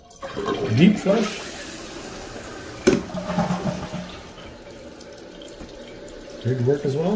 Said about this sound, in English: Do a deep flush.